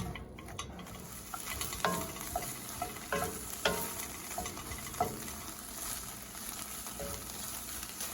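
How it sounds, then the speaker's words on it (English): Onions frying in olive oil, stirred around the pan during backcountry meal prep: a soft continuous sizzle with occasional light scraping taps from the spoon, fairly quiet and close. "So we will stir this up, make sure we get all that olive oil spread out nice."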